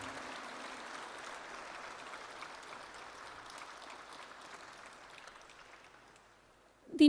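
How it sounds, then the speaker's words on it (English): Sustained audience applause fills a hall at a Heartfulness event, a steady wash of many hands clapping at moderate level for several seconds before tailing off. "Can we have a louder round of applause"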